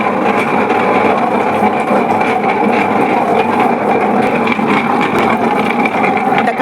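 A Shantha wet grinder runs with its stones turning, giving a steady, loud mechanical whir and rumble that stays constant throughout without pauses.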